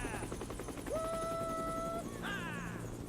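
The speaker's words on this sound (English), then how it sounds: "a zombie gets into his helicopter" A helicopter in the Dead Rising video game whirs steadily with sustained tonal game sounds over it, and faint voices can be heard in the background.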